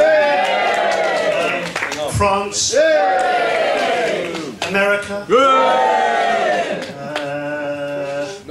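Wedding guests at a father-of-the-bride speech cheer and whoop loudly between the speaker's shouted country names, the crowd noise rising in bursts under and around his voice.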